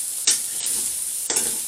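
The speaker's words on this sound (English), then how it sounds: "keep it moving so it doesn't stick to the bottom of the pan" Chicken and bacon stir-frying in a frying pan give a steady, close hiss and sizzle, with two brief louder bursts as the pieces are stirred and moved around.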